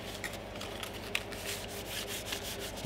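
A cloth rubs over the plastic back cover of a Commodore Amiga 500 keyboard controller, giving soft, steady rhythmic wiping strokes close up with no talking.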